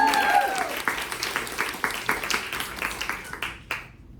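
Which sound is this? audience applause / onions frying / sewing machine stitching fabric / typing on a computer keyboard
audience applause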